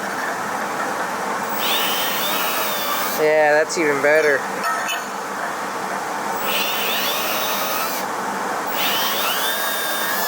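A power drill whirs steadily at low speed, grinding through metal engine-bay downbars on a 1966 GMC, with brief speech partway through.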